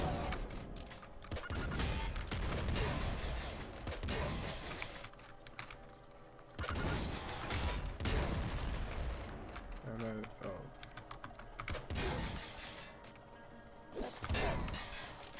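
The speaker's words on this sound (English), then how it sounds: "It's Slugger and a nuke launcher." Explosive weapon blasts in the Nuclear Throne video game, including a nuke launcher alongside a slugger, come as repeated loud bursts and crashes over a dense, busy mix of game music and effects, with a voice talking over it.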